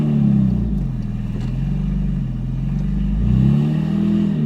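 A 2005 Porsche Boxster fitted with a 4.3L R43 engine idles on a cold start, its deep steady rumble loud and close, with a brief rise in revs near the end.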